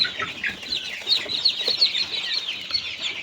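Many chicks cheep continuously in a warm brooder held around 33 degrees, a dense chorus of high, overlapping peeps at close range with no talk.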